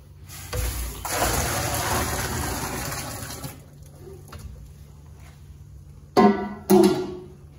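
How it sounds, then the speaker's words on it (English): Two gallons of boiling water gush into a bucket of peach brandy mash, a steady loud pouring rush lasting a few seconds, followed by quieter handling noises and two short clanks. "We're gonna add this other 2 gallons of water."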